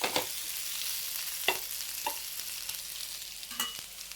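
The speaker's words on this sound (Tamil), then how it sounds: "முட்டை ஆம்லேட், உருளைக்கிழங்கு முருகெல்லாம் வறுக்கிறேன்" Egg omelette and potato pieces fry in a pan with a steady, fairly quiet sizzle, broken by a few sharp scrapes and clicks of stirring, with no voices.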